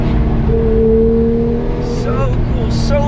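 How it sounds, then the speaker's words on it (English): A 500-horsepower 4-liter naturally aspirated Porsche engine drones steadily close by, then shifts gears with quick changes in pitch near the end, loud and continuous beneath a speaking voice. "500 horsepower, 4 liter, naturally aspirated Porsche engine. Do you hear those shifts? Sounds like a cup car."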